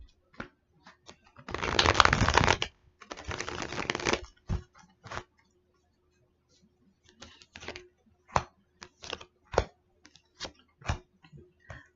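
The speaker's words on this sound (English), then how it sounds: "I'm gonna shuffle one last time." Tarot cards shuffled in two long riffling bursts early on, followed by scattered soft taps and flicks as cards are laid down, close and alone with no talk.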